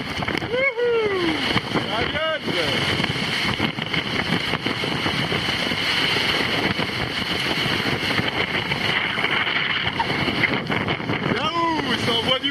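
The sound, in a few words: sailing yacht Virbac-Paprec 3 in strong wind and waves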